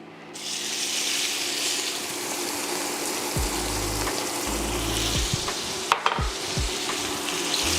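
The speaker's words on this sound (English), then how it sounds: "Now we just gonna saute these down and render these down until they become golden brown" Meat pieces for crockpot beef short ribs sauté and render in a hot crockpot, giving a steady, loud sizzle throughout with a few low clunks and a brief sharp knock near the end; no talking.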